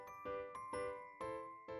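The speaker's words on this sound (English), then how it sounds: "As the clock chimes 12" A clock chimes in a fairy-tale palace ballroom at midnight, several bright, ringing bell strikes spaced roughly half a second apart, each with a long tonal ring, heard alone and fairly faint.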